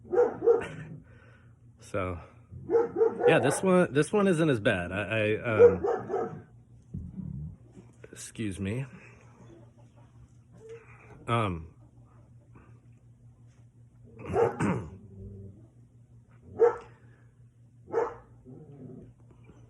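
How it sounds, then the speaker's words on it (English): Dog barking indoors in the background, several separate barks and yips scattered across the clip with long pauses between them, mixed with a person talking near the microphone. "Excuse the dog barking as well,"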